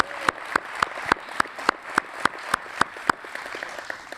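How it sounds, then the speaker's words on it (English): Clapping at a community awards event, heard as a steady, evenly spaced beat of about a dozen sharp claps close by that fades toward the end, with no talk. "How about a round of applause for all of them?"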